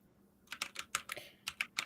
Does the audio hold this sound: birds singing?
no